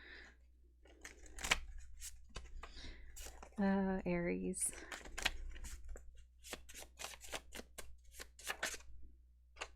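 Tarot cards being shuffled by hand, a series of crisp riffling and slapping bursts heard close up, mixed with a voice speaking and a brief hummed or sung tone.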